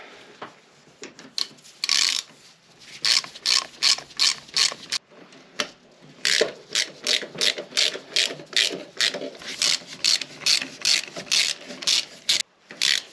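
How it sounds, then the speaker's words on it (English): A hand ratchet with an E10 socket clicks in quick, steady strokes while bottoming out engine mount bolts on a 2012 Ford Focus Estate 1.5 TDCi, with bursts of clicking and short pauses between them, close and clear. "now what we need to do is bottom these 3 bolts out"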